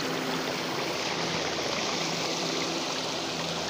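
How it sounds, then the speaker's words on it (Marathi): A waterfall feeding a large stone water tank used for bathing, rushing in a steady, dense roar that stays loud and unbroken from start to finish. "स्विमिंग पूल आणि हा आमचा हे आहे काय वॉटरफॉल."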